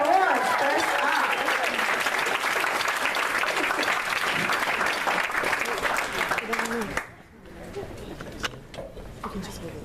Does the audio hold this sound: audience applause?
yes